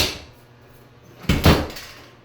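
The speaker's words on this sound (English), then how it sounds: "Door is sticking a little bit" A sticking door in a house is yanked open, giving a sudden loud scrape and thump followed by a second rattling bump, close by with no talking.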